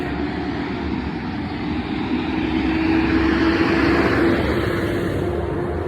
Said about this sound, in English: And here comes that truck again.